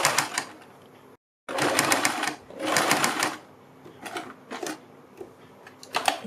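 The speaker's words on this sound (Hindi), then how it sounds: "इधर भी हमें सिलाई लगानी है।" An electric sewing machine stitches a kurti neckline in several short rapid bursts, separated by brief pauses and one complete silence, heard up close.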